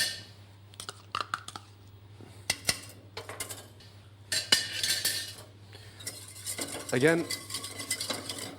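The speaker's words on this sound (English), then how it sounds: "whisk this beautiful puree into the velouté" Watercress purée being whisked into a velouté sauce in a pan, giving quick bursts of metal whisk scraping and clinking against the pan, close and fairly loud, with brief pauses and a short spoken word.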